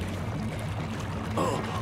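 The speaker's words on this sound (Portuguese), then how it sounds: "A água deve ter descido por este cano!" Water draining away down a pipe in an animated cartoon: a steady low gurgling rush that pulses rhythmically, then a brighter splashy swirl near the end.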